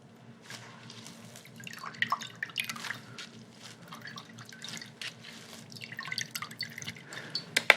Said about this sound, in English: I can press out even a little bit more liquid here